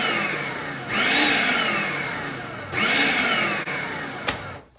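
A food processor pulses empanada dough with butter in two long, loud whirring bursts close by, each rising quickly and holding steady before cutting off, with no talking.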